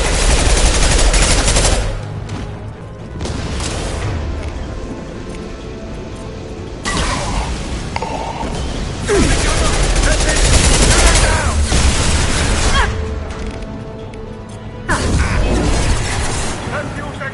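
Sustained automatic gunfire in the Mass Effect video game, loud close bursts of machine-gun fire in several waves with short lulls and occasional booms, with voices talking in between.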